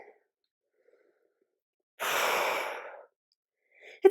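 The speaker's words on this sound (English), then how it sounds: "It's also just a forceful exhale." A forceful exhale during a weighted wide squat, heard as a single loud, breathy sigh that lasts about a second amid silence.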